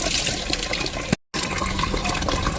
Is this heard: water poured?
yes